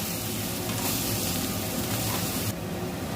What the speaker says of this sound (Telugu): అల్లం పేస్ట్ తగినంత పసుపు వేసుకొని కలుపుకోవాలండి